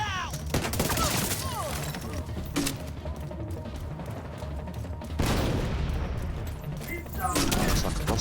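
Rapid SMG fire from The Division 2, loud bursts running through most of the stretch with short gaps between volleys, a voice talking over it.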